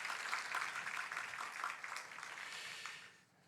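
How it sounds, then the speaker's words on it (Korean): A church congregation claps in welcome for new members, a dense, steady wash of many hands that holds for about three seconds before trailing off. "우리 같이 환영의 박수 하십시다"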